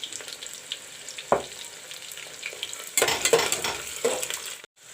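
Sliced onions fry in mustard oil in a pan with bay leaves, a steady sizzle broken by a few scraping stirs and a louder clatter of the spoon toward the end.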